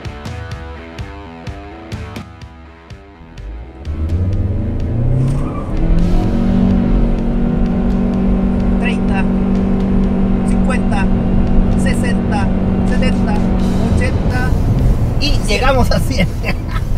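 A Kaiyi XY3 Pro with a 1.5 turbo engine accelerates hard from a standstill toward 100 km/h. The loud engine roar builds and rises in pitch through the gears, and a voice speaks over the start.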